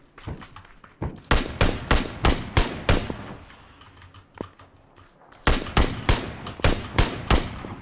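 Gunfire in the online shooter Battlegrounds (PUBG) arrives as two loud, rapid bursts of sharp shots, with a few scattered single cracks in the quieter gap between them.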